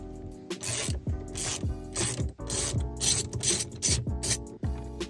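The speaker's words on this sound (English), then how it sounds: "you just gotta use like a ratchet wrench, kind of hold the wheel and crack it loose" A ratchet wrench clicks steadily while loosening the T55 center bolt of an Audi carbon fiber steering wheel, a close, loud, rhythmic series of pawl clicks with grinding rubs between strokes.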